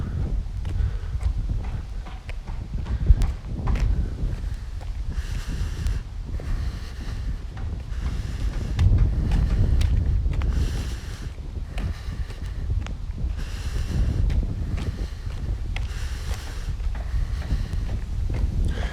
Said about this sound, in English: It's now very windy, and I hope you'll be able to hear this okay.